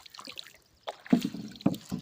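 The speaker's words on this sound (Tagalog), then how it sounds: "Ayan, tulong muna ako magsagwan" An oar strokes the water as someone paddles a small boat, producing a few soft splashing dips at an uneven pace. The strokes are close and moderately loud, with quiet pauses between them.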